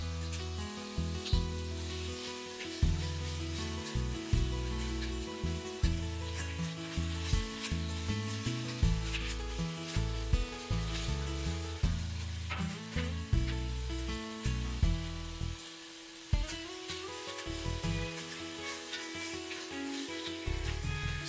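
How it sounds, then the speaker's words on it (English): Chopped beef steak bites searing in a hot pot for garlic butter steak and potatoes, a steady crackling sizzle with repeated scraping and knocking sounds as pieces are moved, close and fairly loud, no voices. "Sear for 1 to 2 minutes, then flip and brown all sides."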